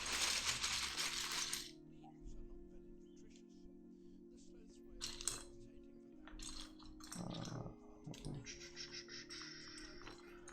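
Plastic keycaps handled during a custom Key65 mechanical keyboard build, with bursts of clicking and clattering at the start and in the middle and later, separated by quiet gaps with a low hum.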